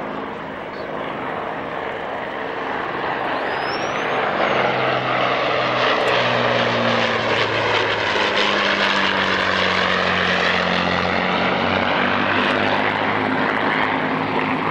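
A Hawker Hurricane propeller aircraft performs at the 1999 North Weald airshow, its loud engine droning and swelling with a shifting pitch as it pulls out and away overhead.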